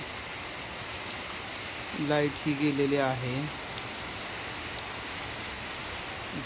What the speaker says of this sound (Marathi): पंढरपूर येथे जोरदार पावसाची हजेरी चालू आहे